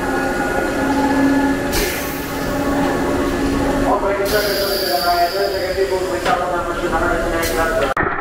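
A roller coaster train at Six Flags Magic Mountain rolls and rumbles along the track with a steady mechanical hum and bursts of hiss, heard up close while people talk over it.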